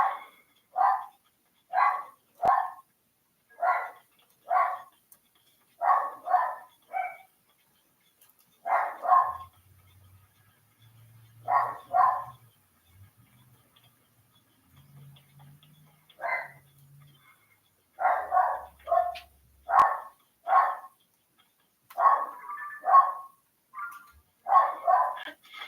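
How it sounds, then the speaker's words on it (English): A dog barks repeatedly nearby in quick bursts of two to four sharp barks, with short pauses and a longer quiet gap before the barking resumes; no talking. "My dog's freaking out about something."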